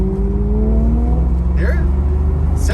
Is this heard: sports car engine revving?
yes